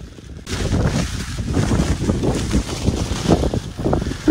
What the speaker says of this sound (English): It's raining harder. It's quite windy.